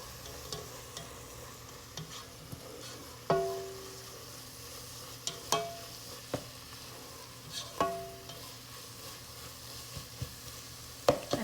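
A spoon stirs flour into a hot pan for a roux while making steak marsala, the steady low sizzle broken by sharp scraping knocks against the pan at irregular intervals, with no talking.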